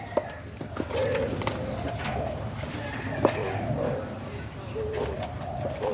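Spotted dove cooing from a cage, repeated low soft coos fairly close amid steady background noise and scattered short chirps.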